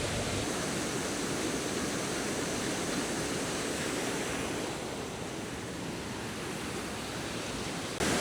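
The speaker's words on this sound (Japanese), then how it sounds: "神秘さと迫力のある滝でした。" A powerful waterfall on Izu in Shizuoka pours in a dense, steady roar of rushing water, loud and close, with no voices over it.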